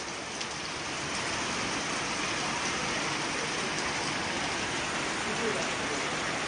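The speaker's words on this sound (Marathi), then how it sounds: "आता वा वा भयानक भयानक पाऊस" Steady, dense heavy monsoon rain in Konkan fills the whole clip at an even, constant level, a broad wash of falling water with no pauses.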